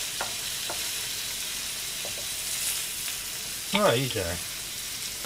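A cinnamon hamburger patty frying in a pan over moderate heat gives a steady, close sizzle throughout. A voice speaks briefly near the end over the frying.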